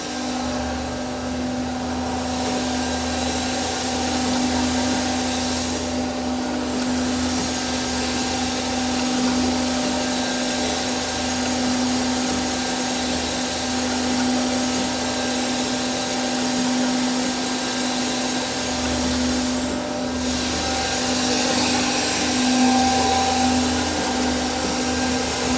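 A Swiss-made high-precision Voumard universal internal grinding machine runs with a continuous close whine and hum, broken by two brief dips in the motor tone. No one speaks.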